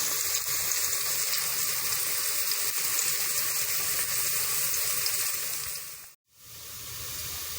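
Garlic frying in a pan gives a steady, close sizzle that holds evenly for several seconds, then cuts out briefly and resumes.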